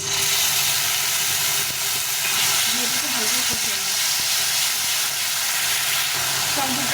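Ground tomato paste hits hot oil with fried chillies in a pan while cooking a rohu fish curry, giving a steady, loud, close sizzle and hiss with faint stirring scrapes throughout.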